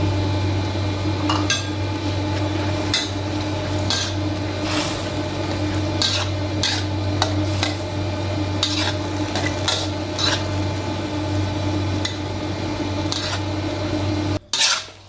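Snow mushrooms being stir-fried with holy basil leaves in a pan for a vegetarian dish, a steady sizzle with repeated scraping and clinking of a spatula against the pan, close and continuous, cutting off abruptly at the end.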